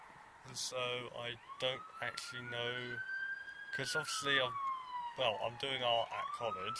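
A wailing emergency siren passes outside, its rising and falling tone sweeping steadily through the whole stretch at moderate distance, under a person talking continuously indoors.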